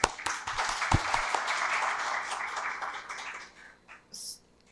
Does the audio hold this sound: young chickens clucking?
no